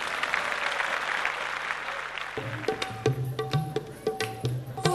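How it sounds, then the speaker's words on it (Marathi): An audience gives applause to the Omkar Cultural Group at a Mangalagaur performance event in Sangli; a broad wash of clapping fades out midway, giving way to sharp percussive hits and tonal musical sounds. "जोरदार टाळ्या होऊन जाऊ द्या त्यांच्यासाठी"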